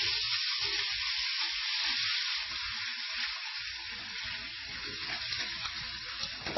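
Steady, loud sizzling of squash slices frying in a pan, a continuous hiss with occasional crackles and soft clatter underneath, no voices.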